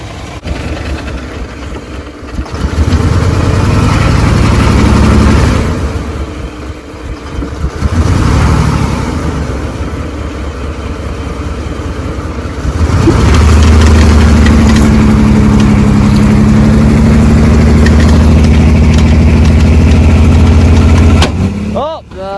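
A 1977 Ford truck engine, sitting stuck, revs hard and loud in a sustained drone as the driver tries to pull out with the front diff locked in four-wheel drive, with voices over it.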